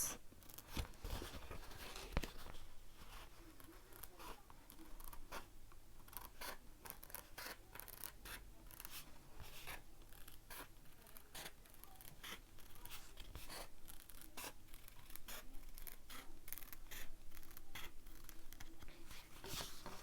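Scissors snipping a rough circle out of a sheet of foam, a steady run of close, crisp cuts and scratchy rubbing that continues throughout with no talking.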